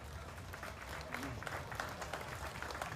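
Audience applause at a state fair FFA legends ceremony honoring USC alumni, a steady wash of clapping throughout, with low hum and some voices underneath.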